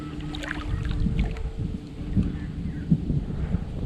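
An Argo amphibious vehicle drifts in toward a riverbank, its low engine drone and lapping water steady under light wind noise, with a few soft bumps near the end.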